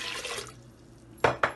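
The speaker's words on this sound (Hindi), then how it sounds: "3 कप पानी डालेंगे।" Water poured from a cup into a pressure cooker holding unsoaked black lentils, a brief splashing pour followed by two sharp sloshing bursts, with no speech.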